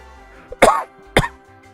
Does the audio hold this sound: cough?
yes